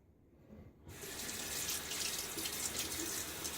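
Cold water from a tap begins running into a sink during shaving, a steady close hiss and splash that starts after a brief near-quiet moment and continues evenly.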